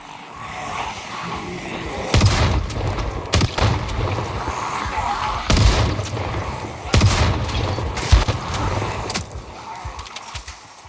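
Shotgun firing in the video game Project Zomboid, in a city area: several loud, booming blasts spaced a second or two apart over a continuous background hum.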